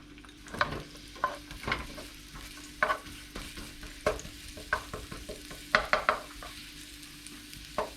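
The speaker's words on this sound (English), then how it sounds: "Bring it to really hot before you put in the garlic." Garlic frying in very hot oil for Thai shrimp fried rice, a close bright sizzle broken by repeated sharp scrapes and clacks of a spatula stirring in the pan, no talk.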